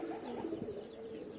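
Young pigeon squabs in a pen give soft, low cooing sounds, faint and close, with no talk during the clip.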